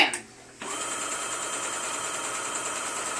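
A sewing machine starts up after a brief pause and runs in a steady, close mechanical hum of rapid stitching that carries on continuously to the end.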